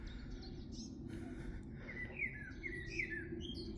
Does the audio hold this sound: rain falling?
no